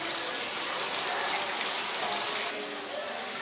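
Broad, steady rush of water pours from a waterfall feature by a cruise ship pool on the Norwegian Joy, spilling off to one side as the ship leans, loud and continuous, then dropping slightly in level partway through.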